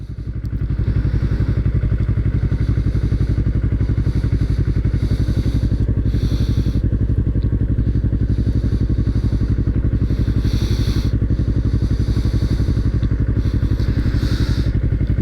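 A motorcycle engine runs steadily at a garage, a loud, continuous low rumble with a fast even pulse, some clatter and thumps, and no talking over it.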